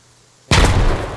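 A sudden loud grenade blast in ARMA 3 erupts after half a second of near silence, a sharp close boom with a rumbling tail that decays slowly.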